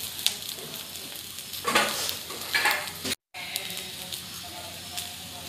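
Green chillies and cumin roast together in a pan for a Kolhapuri thecha, giving soft sizzling and a few stirring scrapes, close by and fairly quiet, with a brief dropout near the end.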